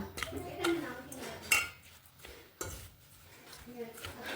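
Green and red chili pickle ingredients and amchur powder being mixed in a bowl, with irregular clinks and scrapes of a utensil against the dish, some louder knocks, at close range and without talk.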